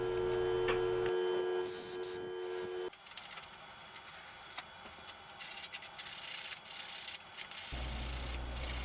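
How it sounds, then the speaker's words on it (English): Steady scratchy rubbing of sandpaper by hand on the inside of a carved wooden Marine Corps emblem, continuous with shifting strokes, fairly close, with a low hum at the start and end. "Then of course my hand sanding inside."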